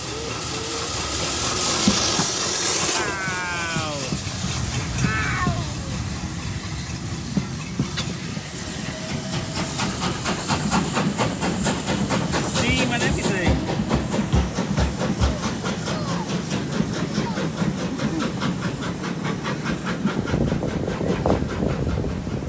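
A steam train hauled by two locomotives at Wimbledon passes close with loud hissing steam, rhythmic chuffing and wheel clatter over rails, a burst of steam early on, and children's voices briefly heard.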